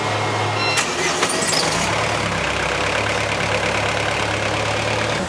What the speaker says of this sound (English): the girls on deck are going to fire up the engine